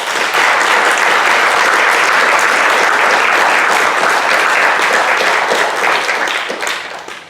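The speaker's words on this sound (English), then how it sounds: "I hope you would join with me now in applauding their willingness to do so." An audience at a school board of education meeting breaks into sustained, loud applause, many hands clapping steadily before tapering off at the end.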